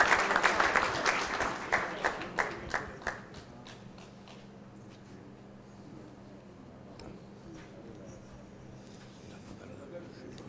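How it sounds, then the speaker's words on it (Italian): Audience applause at a bocce tournament award ceremony in Frosolone: a burst of dense clapping that thins after a few seconds into scattered claps over a low crowd murmur. "Un applauso."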